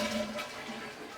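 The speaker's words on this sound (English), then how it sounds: "Then flush your toilets." A household toilet flushes, a short, moderately loud rush of swirling water heard close up with no voices.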